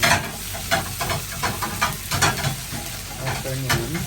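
Onion and garlic sizzling in hot oil while being stirred, a close, continuous frying crackle with irregular scraping bursts of the spoon against the pan and no talking.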